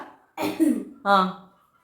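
Two close, loud coughs from a person, a rough burst followed by a shorter throaty second cough, with quiet between.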